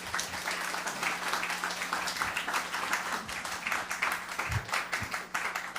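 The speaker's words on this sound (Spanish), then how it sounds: "Un aplauso, por favor." A crowd applauds continuously for a guest speaker at a science, arts and humanities event, dense clapping filling the room at steady volume for several seconds.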